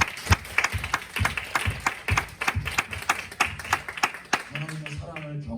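A church congregation claps together in worship, sharp, evenly spaced beats in a steady rhythm, loud and close, before a voice begins speaking near the end.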